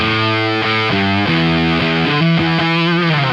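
Electric guitar through a fuzz distortion effect cranked about three-quarters up, playing a loud, saturated phrase of several sustained notes that shift pitch every half second or so, with no talking.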